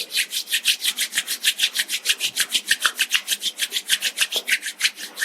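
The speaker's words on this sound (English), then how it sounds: "Now you can slowly create some energy between your hands by rubbing your palms against each other." Palms of the hands rubbed briskly together, a fast, even back-and-forth swishing close up, about five strokes per second, alone and without talk.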